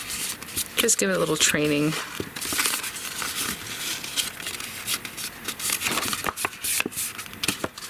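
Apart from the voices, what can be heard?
paper card kit being folded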